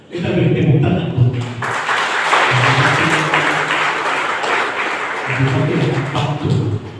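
Congregation applause at the dedication of a new church building in Jayapura, a steady broadband wash of clapping lasting several seconds, with voices and low murmuring mixed in underneath.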